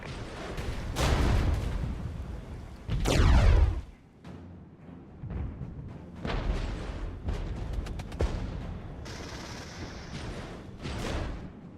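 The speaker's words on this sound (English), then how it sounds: "I get one artillery strike here." An artillery strike in the video game Regiments lands as a series of heavy booming blasts with rumbling tails, several explosions spaced across the stretch, loud and close.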